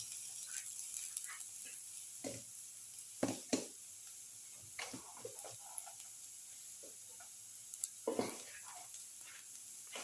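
Ginger hits a pan for a garlic potato and split chickpea casserole, giving a soft continuous sizzle broken by scattered scraping clicks and clanks of stirring.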